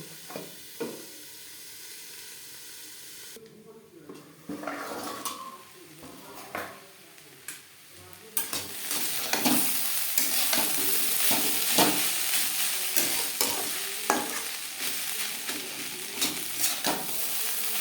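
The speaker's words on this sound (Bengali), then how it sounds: "দু তিন মিনিট নাড়াচাড়া করে নেওয়ার পর গ্যাসের ফ্লেমটাকে লোতে করে দেবো" Beetroot and carrot for vegetable chops are stirred in a frying pan over a gas flame: quiet scrapes and taps at first, then a loud steady sizzle with repeated spoon scrapes against the pan.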